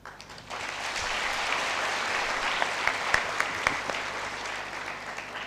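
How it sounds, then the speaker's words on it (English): Sustained applause from an audience at a women in construction conference, beginning abruptly and holding steady as dense, even clapping for several seconds, with a few sharper claps standing out near the end. "Let's give another round of applause, please."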